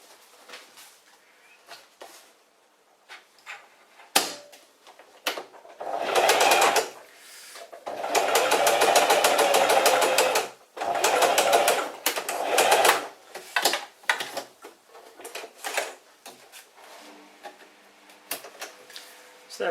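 A Singer Heavy Duty 4411 sewing machine runs a zigzag stitch in several bursts, the longest a sustained rapid whirring rattle, with short pauses and handling clicks between runs; no talking.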